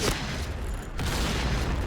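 A grenade blast in a PUBG-style battle royale game, a broad booming burst that fills the short clip, with a brief dip and a second swell of rumbling noise, loud and close.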